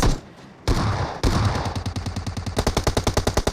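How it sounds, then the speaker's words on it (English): Rapid bursts of S12K shotgun fire in a battle royale video game tournament match, loud and close, firing in a fast steady rhythm that speeds up toward the end, with no talk over it. "I can hear an S12K in the mix"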